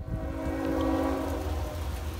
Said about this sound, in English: as you can tell, we got a train coming